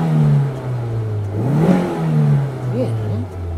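A Nissan Silvia 240SX S14 on its original factory exhaust revs while parked, the engine note rising and falling through a couple of throttle blips, loud and close, with voices talking over it.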